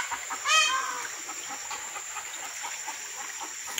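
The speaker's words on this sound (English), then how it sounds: "There's a chicken up in the trees." A chicken perched up in the trees near a creek gives one short burst of clucking, moderately near, then fades into quiet outdoor background with a steady high insect-like tone.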